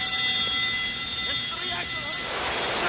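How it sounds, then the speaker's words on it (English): A submarine radiation alarm from a 1990 movie sounds as a steady electronic tone held throughout, fairly loud, with faint voices and engine rumble mixed in beneath. "Captain, radiation alarms activating in all compartments."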